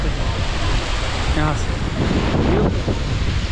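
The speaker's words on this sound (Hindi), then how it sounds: "यहाँ पर देख सकते हो वाटरफॉल बहुत ही खूबसूरत" A waterfall at Baltal on the Amarnath Yatra mountain route gives a loud, steady rushing roar that fills the whole clip, with wind buffeting and someone speaking briefly over it.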